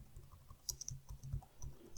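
Keystrokes on a computer keyboard, a few quiet scattered clicks over a low steady room rumble, no voices.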